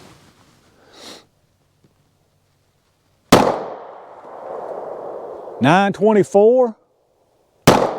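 A 9mm pistol with a 3-inch barrel fires Berry's hybrid hollow points over a chronograph. Two sharp, loud shots ring out several seconds apart, each with a ringing decay, and a voice speaks briefly between them.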